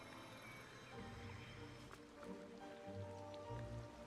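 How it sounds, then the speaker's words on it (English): Soft rain patters in the video game Disney Dreamlight Valley, a faint steady hiss with light drops under quiet, layered game music, with no talking. "Is this rain?"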